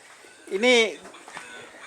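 A single drawn-out moo from a cow in a cattle pen, rising then falling over about half a second, fairly close, followed by faint background sounds.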